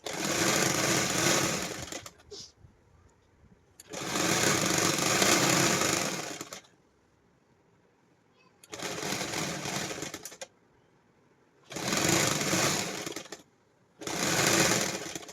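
A sewing machine stitches pant fabric in five loud, close bursts of rapid whirring needle strokes, each two to three seconds long, separated by quiet pauses.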